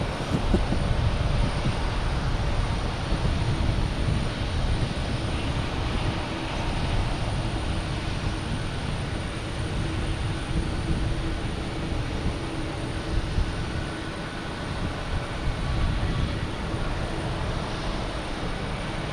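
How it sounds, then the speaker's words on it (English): Icelandair, Japan Airlines and United airliners at Boston Logan Airport, heard as a constant broadband jet rumble with a faint high whine, steady and unbroken throughout. "Iceland Air and Japan Airlines racing with United here as well."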